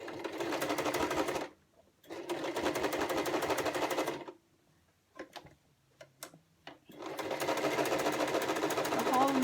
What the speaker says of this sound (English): now I'm going to be using the foot edging to do the second seam